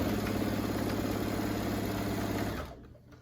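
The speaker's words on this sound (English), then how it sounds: "I'm going to stitch all the way down this side" A sewing machine runs steadily, stitching quilt fabric for an alphabet panel quilt top, with a dense continuous mechanical whir close by that stops abruptly near the end, leaving near quiet.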